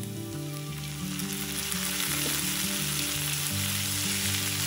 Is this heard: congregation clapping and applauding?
no